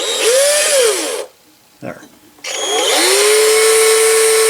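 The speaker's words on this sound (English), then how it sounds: "And I'm test running it. I know, just with a drill." A power drill spins a small homemade horizontal steam engine on a test run, whirring loudly with pitch that rises and falls. It stops briefly while a voice speaks, then starts up again and settles into a steady high whine.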